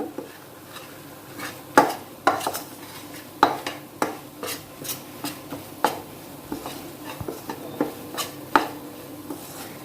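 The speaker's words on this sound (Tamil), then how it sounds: "இந்த கோதுமை நல்லா வாசனை வர அளவுக்கு வறுக்கணும்" Wheat being dry-roasted and stirred in a pan for Tamil-style wheat halwa. Close scraping and tapping strokes from a utensil against the pan come in an uneven, fairly quick rhythm, and no one speaks.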